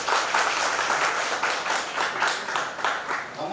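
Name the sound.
audience applause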